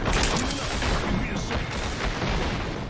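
Airstrike blasts in the game Apex Legends, a loud, dense barrage of booming explosions rumbling continuously through a short burst, with gameplay clutter around them.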